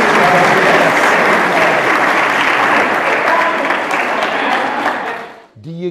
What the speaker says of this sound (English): Can I hear it for the mighty Father Tony players?